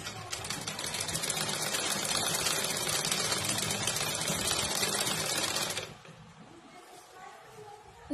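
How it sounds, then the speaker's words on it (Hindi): A sewing machine runs steadily for about six seconds as lace is stitched onto a saree made from an old lehenga, its loud, even whirring motor cutting off abruptly and leaving quiet room noise. "अब इस पे हम सिलाई मशीन चलाएंगे।"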